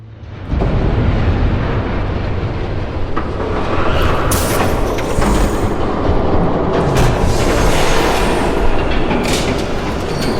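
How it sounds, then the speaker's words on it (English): A train approaches in Batman: The Telltale Series, a loud steady rumble that swells in quickly and roars on without letup, with sharper hissing bursts mixed in. "There's a train coming."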